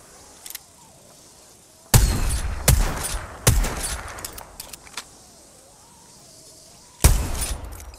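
In a ranked solo shooter match, bursts of gunfire crack out in sharp clusters with metallic rattles and a lull between them, then another loud volley lands near the end.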